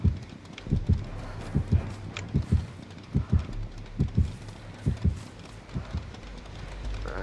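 A video game heartbeat effect pulses in steady low double thumps, close and rhythmic, repeating throughout over a faint background hiss with no talk.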